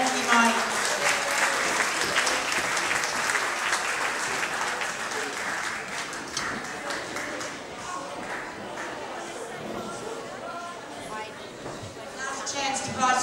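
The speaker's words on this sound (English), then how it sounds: "Let's big round of applause." An audience at a small-town event in Nimbin gives a sustained round of applause, a dense even patter of many hands that carries on steadily with little change.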